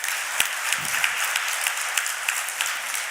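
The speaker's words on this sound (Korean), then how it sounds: "격려의 박수 좀 부탁드리겠습니다" A church congregation gives a dense, sustained round of applause, an even crackling roar of many hands heard up close and alone, with only a faint thump near the start.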